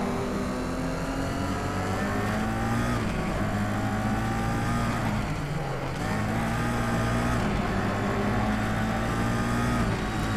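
Engines of racing cars, including a Toyota Supra, drone loudly and continuously in the Race Driver GRID video game, rising and falling in pitch as they rev and shift, with no talking.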